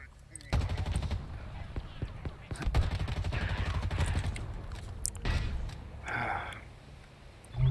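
Sniper and other gunfire in a video game crack out in rapid bursts and single shots, loud and close, mixed with game noise and a voice talking over it.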